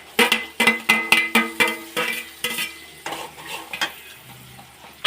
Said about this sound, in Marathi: तर बारीक कापलेला कांदा मित्रांनो टाकून घ्यायचं